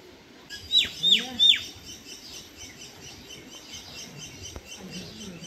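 A myna perched near a river bridge over shallow rainwater gives three quick rising-and-falling calls early on, clear against a soft outdoor background hum, then falls quiet.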